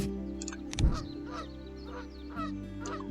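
A single short goose honk from the Wingspan digital bird board game sounds near the start, set against a soft, steady bed of game music with no voices.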